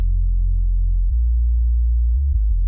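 A steady synth sub bass tone holds a deep, even hum with no rhythm, clean and alone, stabilized with a preamp, and only a slight shift partway through.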